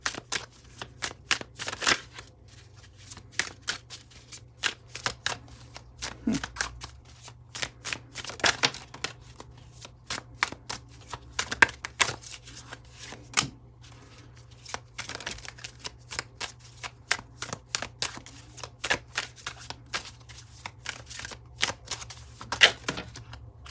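Tarot cards are shuffled in quick bursts of riffling snaps and flicks, close and crisp, with brief pauses between shuffles and no speech over them.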